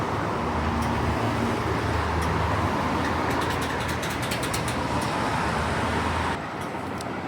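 A bus passes along a busy Melbourne street near Royal Park, its broad engine rumble blending into steady, loud traffic noise throughout, with no voices.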